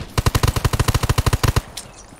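Rapid automatic gunfire in the video game Undawn: a single close, loud burst of about fifteen evenly spaced shots lasting over a second, then quiet.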